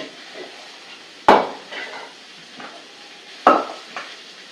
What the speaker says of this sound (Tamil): முருங்கைக்காய் கொத்தவரைங்க கவுச்சு எல்லா காய்கறிகளையும் நான் இப்போ போட்டுட்டேன்